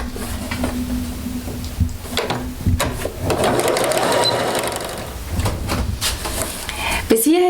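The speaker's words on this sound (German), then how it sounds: "Jetzt nähst du das einfach mit 1 Zentimeter zusammen." A sewing machine runs steadily as it stitches a 1 cm seam along fabric for a kaftan, a close, continuous mechanical whir with small shifts in speed over the whole stretch.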